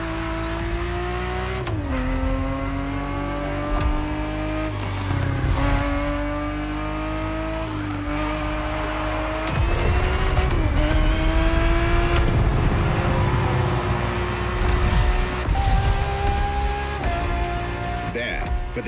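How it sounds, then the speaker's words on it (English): A Ferrari 365 GTB4 in The Crew Motorfest races hard, its engine climbing through gears with repeated rising revs and brief shift dips, plus occasional tire squeal, loud and close throughout. "365 GTB4 is the perfect vehicle for you to experience Ferrari racing as it felt back in the 70s"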